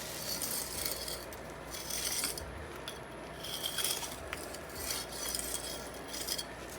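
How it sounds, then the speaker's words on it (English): Masonry joiner dragged along mortar bed joints, giving soft, repeated scraping rubs at close range with faint small clinks, quiet and without speech. "Then you take a joiner and you do the bed joints."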